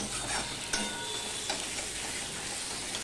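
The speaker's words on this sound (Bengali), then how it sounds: "এবার আদা আর টমেটোটাকে আমি মিশিয়ে নিচ্ছি। নিয়ে একটুখানি আমি মিনিট খানিক আমি কষিয়ে নেব।" Ginger paste and tomato being stirred and sautéed in a pan for a rui fish curry, giving a soft continuous sizzle with faint scrapes and one brief knock, fairly quiet throughout.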